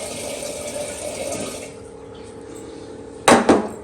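Water from a kitchen tap splashing out of the basin, a steady broadband rush that quiets midway before two short, loud bursts of splashing near the end.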